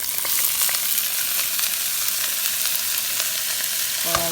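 Cabbage and carrots sizzle steadily in a greased frying pan, a loud, continuous crackling hiss that runs throughout with no talking.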